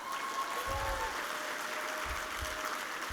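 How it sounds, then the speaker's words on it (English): Steady audience applause fills a political party gala dinner hall, a dense even wash of clapping from a large crowd that holds at a constant level throughout. "how about a round of applause for the best party chairman in the United States of America?"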